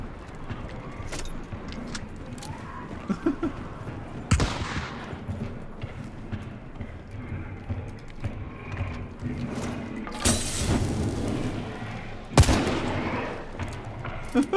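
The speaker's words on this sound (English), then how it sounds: "Who are you shooting at now?" Gunfire in the online shooter Hunt: Showdown, a mix of scattered shots near and far with a few loud, sharp cracks standing out over mechanical clatter and low rumble.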